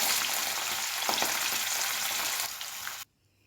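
Green chillies frying in hot coconut oil give a loud, dense, steady sizzle up close that fades slightly, then cuts off abruptly near the end.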